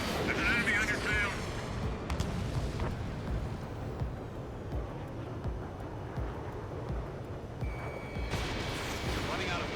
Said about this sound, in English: Enemy missile strike!